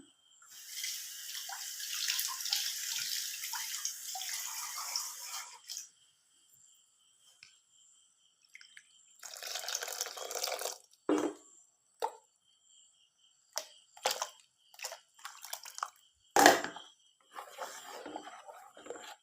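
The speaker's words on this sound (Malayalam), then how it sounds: "ആവശ്യമുള്ള വെള്ളം ചേർത്ത് കൊടുക്കാം." Water pours into a pan of fish curry in a few separate bursts, splashing and gurgling, followed by scattered plops, clinks and pauses.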